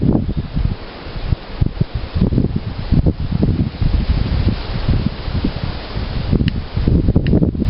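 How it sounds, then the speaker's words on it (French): Wind blows steadily outdoors at a fishing spot, a loud, continuous rushing and buffeting against the microphone with gusty surges throughout and no speech. "il y a du vent"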